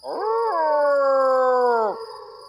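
A human voice imitates dogs howling at night with one long, sustained, wavering howl that rises at the start and drops off sharply at the end, loud and close with nothing else behind it.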